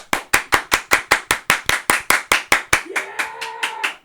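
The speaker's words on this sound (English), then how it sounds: "We need to hear the applause." A single pair of hands claps sharply and evenly, about four claps per second and close by, welcoming a guest on a talk show. A voice speaks over the last stretch while the claps grow softer.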